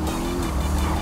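A powerful motorcycle engine in Grand Theft Auto 5 drones loud and close, a steady dense roar filling the whole brief moment without letting up.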